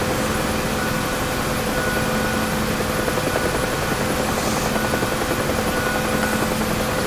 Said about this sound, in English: This is the Wolverine helicopter.